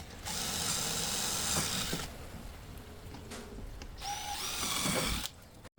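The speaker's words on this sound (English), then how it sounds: "Now I'm starting to screw some holes in." A power tool drives screws into the wooden speaker baffle of a 2x12 bass cabinet, with two long whirring bursts separated by a brief clatter, close and moderately loud, no talking.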